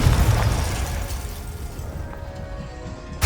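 In the Hogwarts Legacy video game, the Confringo fire spell detonates as a loud, close explosion with a deep booming burst that rolls off into a decaying rumble, ending with a short sharp crack.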